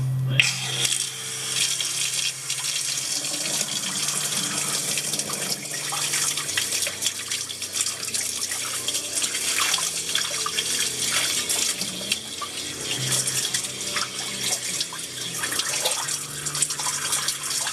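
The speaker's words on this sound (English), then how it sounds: "Turn some water on." Water runs steadily from a tap for a long stretch, a constant close splashing rush with faint clatter behind it.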